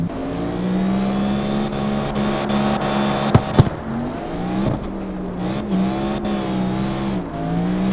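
A drift car on Street Plus tires in the CarX Street racing game drives with a loud engine that rises and falls in pitch as it revs, with a couple of sharp clicks midway and no talking.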